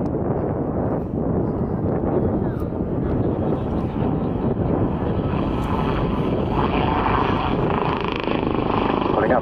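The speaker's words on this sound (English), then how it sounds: "Very agile helicopter" Helicopter flying aerobatic manoeuvres at the RIAT 2014 air show, its rotor and engine noise a loud, steady broadband roar with wind buffeting, continuous throughout and mixed with crowd or commentary voices.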